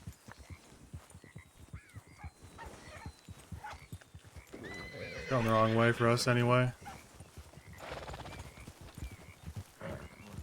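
Horses in a WildRP roleplay game, with hoofbeat clip-clop and a loud whinny rising near the middle of the clip, heard under ongoing talk from players.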